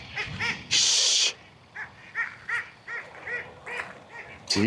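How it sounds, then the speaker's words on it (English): A duck quacks repeatedly beside a Minnesota lake during a fishing opener, a series of nasal honking calls close by, with a loud hiss burst early and a muffled voice in the background. "that duck may need to be timed out"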